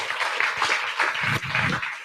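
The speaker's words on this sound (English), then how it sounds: "let's give her one more round of applause" Audience applause at a live talk event, a dense wash of clapping from many hands held steady for about two seconds, fairly close and moderately loud.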